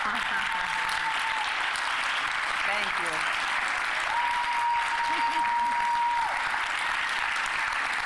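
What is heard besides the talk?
audience applause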